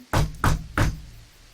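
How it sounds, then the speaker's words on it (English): Three loud, evenly spaced knocks on a door, each a sharp heavy thud with a short ringing tail, followed by quiet. "abruptly wakened by a loud series of knocks on his doors"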